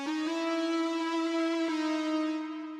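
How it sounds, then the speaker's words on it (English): Layered synth lead notes from a Silent One LD Sidmon patch, bright sustained tones with a slight pitch shift and a fresh attack partway through, played alone and steady before tapering off. "the last one is just a synth from Silent One called LD Sidmon"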